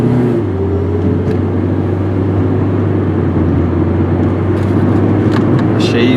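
A red 1998 Saturn SL1 cruising on a highway, heard from inside the cabin as a steady, loud road and engine drone with a constant low hum and no speech.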